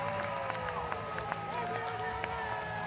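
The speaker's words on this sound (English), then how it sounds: "The crowd goes nuts." Field hockey crowd at the Men's Junior World Cup in Lucknow, Australia v Netherlands, roaring steadily after a goal, a dense wall of cheering and scattered claps with faint voices mixed in.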